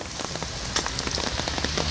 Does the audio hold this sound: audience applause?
no